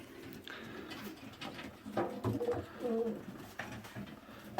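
Pigeon cocks cooing in a loft, soft repeated throaty coos at close range with some rustling and background noise.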